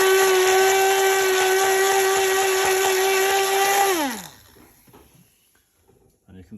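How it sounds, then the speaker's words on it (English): An immersion blender whirs loudly in a bowl of water with a steady high motor whine for about four seconds, then winds down with a falling pitch into quiet, followed by faint clinks. "a really handy way of cleaning your immersion blender is just a bowl of water."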